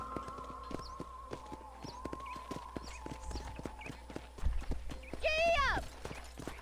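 Horse hooves clip-clop in a steady walking rhythm on a ranch in the Red Dead Redemption video game, close and clear over a low hum, ending in a loud neigh near the end.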